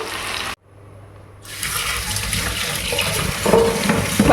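Tap water gushes into a sink while utensils are washed at home, cutting off briefly near the start and then running again steadily and fairly close, with faint clinks of dishes.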